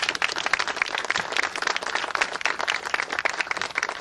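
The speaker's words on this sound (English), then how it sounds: "I ask you today to give him a round form of applause and congratulations for a job well done" An outdoor ceremony audience at a Rails to Trails event applauds loudly and continuously, a dense, even stretch of many hands clapping with no pauses.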